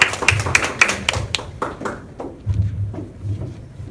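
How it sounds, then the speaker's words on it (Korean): A small seminar audience claps for a team leader at a business lecture, a few sharp separate claps in the first seconds that thin out into quieter scattered clapping with murmuring. "팀장님께도 빨리 성공하시라고 큰 박수 부탁드립니다."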